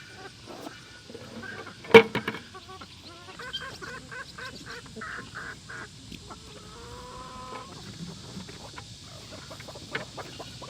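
Chickens clucking and squawking nearby, a loose chatter of short calls with one louder sharp squawk early on.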